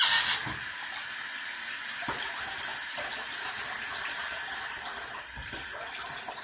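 Steady running water splashes continuously, with a few brief sharper splashes as hands rinse a face after shaving, no voices.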